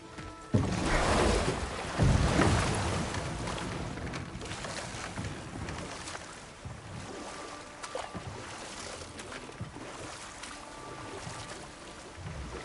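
Continuous roar of rushing waterfall water in God of War Ragnarok, loud and broadband throughout, swelling early and then steadying under game ambience.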